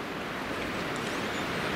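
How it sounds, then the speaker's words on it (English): Strong wind blows outdoors as a steady, loud, broadband rush buffeting the microphone, continuous and with no other sound for under two seconds. "it's so windy here"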